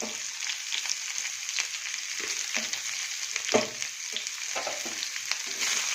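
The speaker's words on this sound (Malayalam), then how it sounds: "ഉള്ളിയൊന്നും കുറച്ച് വാടി വാട്ടിയിട്ട് അരയ്ക്കാനാണ്" Onions softening in a hot pan with garlic, giving a steady crackling sizzle with scattered pops and occasional stirring scrapes, close and even throughout, no voices.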